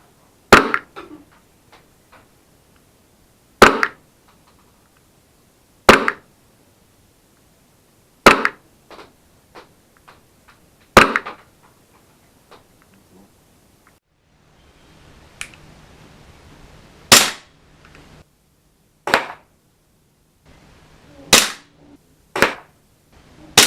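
Armorer Works Glock 17 airsoft pistol fired repeatedly at a target, sharp snapping shots spaced a few seconds apart, several in quicker succession near the end, loud and close with no talking.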